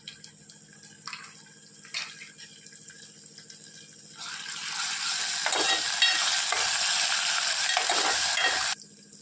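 Green chili paste hits hot oil in a pan with browned garlic, bursting into a loud, steady, broad sizzle that holds for several seconds after a few quieter clinks and stirs.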